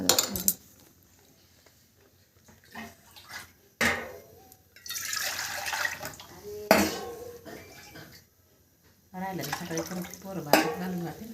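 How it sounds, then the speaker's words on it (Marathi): Water is poured into a cooking pot while a curry is being made, with clattering of pots and utensils and splashing bursts between stretches of quiet, and a voice speaks now and then. "हा पाणी टाकावं लागेल"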